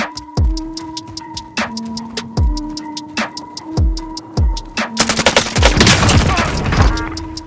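Gunfire in a team-based shooter video game: several sharp single shots spaced across the first five seconds, then a dense, loud burst of rapid automatic fire, with brief player voice chat underneath.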